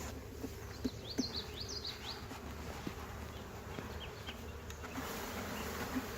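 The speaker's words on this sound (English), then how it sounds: "Look at the bees going in that door now." Honey bees buzzing around a hive entrance during a walk-away split, a faint, continuous droning hum with individual bees zipping past, while a few soft birdlike chirps sound in the background.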